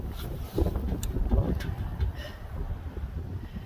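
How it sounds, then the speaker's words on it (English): Steady, cold outdoor wind in Arkansas rushing and buffeting against the microphone, a low continuous roar with a few gusts and no voices. "it's cold and windy"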